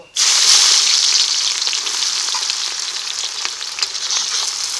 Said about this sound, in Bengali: এই তেলে দিয়ে দিচ্ছি গোটা তেজপাতা ও গোটা জিরে এখন দিয়ে দিচ্ছি পেঁয়াজ কুচি